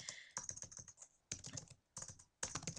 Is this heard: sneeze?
no